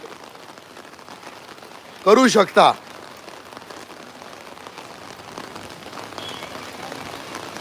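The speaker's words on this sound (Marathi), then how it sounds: "आज चांगला पाऊस विरारमध्ये पडतो आहे" Heavy rain in Virar falls as a steady hiss throughout, moderately loud, with a brief burst of speech near the start.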